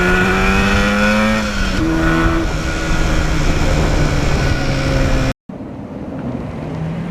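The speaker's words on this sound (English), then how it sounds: "I wish I could put a heart monitor on my heart when I go through the gears here on this bike." A 1977 Yamaha RD400 motorcycle revs hard through its gears, loud and close, its engine note climbing and dropping at each shift before cutting off abruptly near the end, then resuming more quietly.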